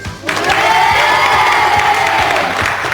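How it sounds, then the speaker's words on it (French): A crowd claps and cheers steadily, with whoops rising over dense applause that holds throughout. "on peut les applaudir"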